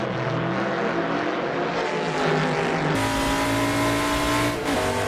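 A Cup90 race car at Road America accelerates with a loud, continuous high-revving engine roar and a brief shift in pitch midway, with no speech.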